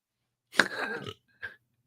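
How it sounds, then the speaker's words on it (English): A man lets out a short, rough burp followed a moment later by a second, briefer one, both close and loud in a quiet room. "I'm still burping up stuff."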